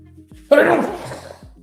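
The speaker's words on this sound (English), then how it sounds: "I think it's the photonic sneeze response from the light hitting my nose" A single sharp, close sneeze bursts out after a brief quiet, loud at first and then trailing off quickly.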